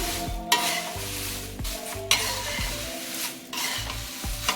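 Jowar flakes crisping in a little oil in a pan while a spoon stirs them, giving a steady sizzle with repeated scraping strokes and clinks against the metal, close and fairly loud.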